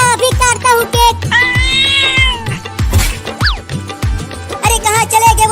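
A cat meows repeatedly over loud, rhythmic music with a heavy beat. The high, wavering cries come in quick bursts, then stretch into a longer drawn-out yowl mid-way.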